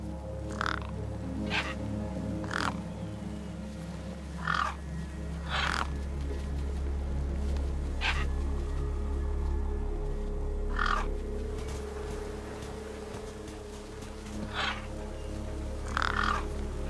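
Crows caw repeatedly over a corpse propped against a rock in the video game Beyond a Steel Sky, their harsh calls spaced every second or two above a steady low ambient drone.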